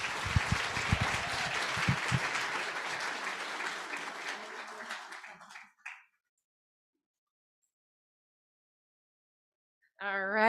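An audience at an education pinning ceremony applauds with a dense, sustained round of clapping that fades out after about six seconds, followed by silence before a voice begins.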